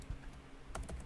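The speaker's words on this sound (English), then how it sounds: "press enter and type the IP address here" A few quick computer keyboard keystrokes, including a press of the enter key, are heard at close range in a quiet room, two short clusters of taps near the end.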